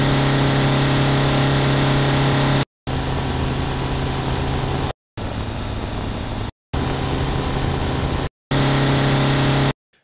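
A car engine loop played at high RPM under heavy load, a dense, steady droning roar with a strong low hum, cut into several segments separated by brief silent gaps.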